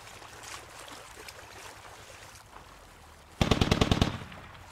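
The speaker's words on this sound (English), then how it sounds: "And some covering fire." Covering fire in the video game SquadOps: a loud, close burst of rapid automatic shots in quick succession cuts in near the end after a stretch of low ambient game noise.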